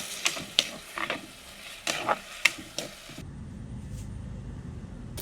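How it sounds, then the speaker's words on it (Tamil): Onion, tomato and green chili sautéing in oil, with a few sharp scraping stirs of a spoon in the pan, then a steady, close, even sizzle for the last couple of seconds. "நல்லா எல்லாத்தையும் எண்ணெயில் வதக்கி விடுவோம்."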